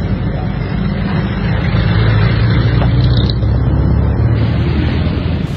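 Interior rumble of a jeepney ride: a loud, steady low engine drone and road noise continue throughout without pause, with slight swells as the vehicle accelerates.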